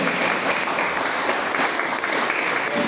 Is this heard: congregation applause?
yes